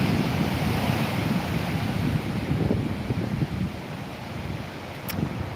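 Sea waves wash steadily onto the shore as the tide comes in, a continuous broadband surf roar with gusts of wind buffeting the microphone and no voices.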